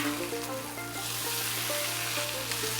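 Potatoes for corned beef hash frying on a hot griddle while being mixed together, a steady close sizzle with faint scraping and stirring sounds throughout.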